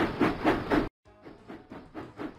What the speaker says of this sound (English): James puffed proudly into Whiff's waste dump